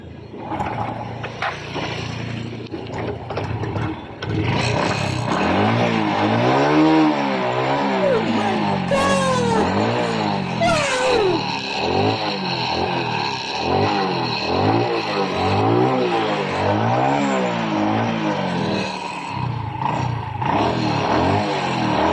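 A Honda XRM 125 motorcycle engine, recovering after two months flood-submerged, runs close by, revving up and down in a steady repeating cycle for the whole stretch, with no talking.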